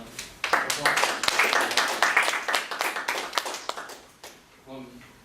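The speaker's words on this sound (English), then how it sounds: "let's give him a round of applause" A small audience at a healthcare administration student society meeting gives a round of applause, separate hand claps standing out in a short burst that fades before a voice begins near the end.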